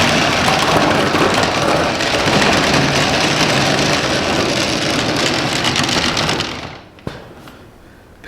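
A John Deere 1025R compact tractor engine drones steadily and loudly for several seconds, then cuts off abruptly, followed by a short clunk and near silence.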